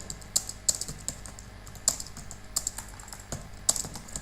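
Close, clicky typing of HTML code on a computer keyboard, with irregular keystrokes and a few sharper spaced taps over quiet room tone.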